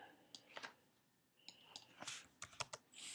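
Numbers being typed on a computer keyboard, with scattered, irregular key clicks in short clusters. The tapping is soft and close, and there is no speech over it.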